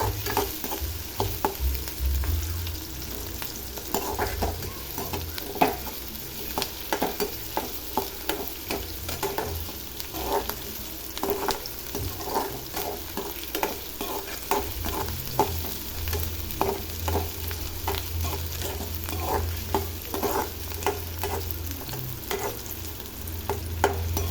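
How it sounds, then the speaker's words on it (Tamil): Small chopped onions sautéing in a pan for chicken kulambu, with a steady close sizzle and frequent scraping stir strokes of a spoon throughout. "வெங்காயம் நல்லா வதங்கணும், ப்ரௌன் கலர் வர வரைக்கும்."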